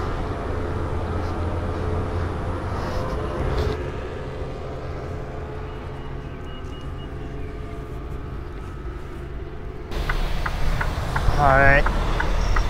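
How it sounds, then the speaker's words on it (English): A truck engine idles in a steady low rumble and then revs as the truck pulls out, with the sound swelling near the end. A voice talks over part of it. "A truck just pulled out."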